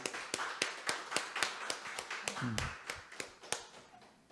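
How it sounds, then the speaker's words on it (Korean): Church congregation clapping in praise, a steady rhythmic beat of sharp unison claps repeating about four times a second, with a brief voice heard partway through. "우리 하나님 아버지께 영광의 박수를 드리겠습니다."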